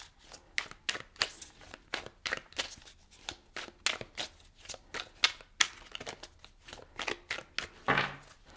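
Tarot cards being shuffled by hand, a rapid run of crisp riffling bursts and slaps repeating steadily up close, with no talking over them.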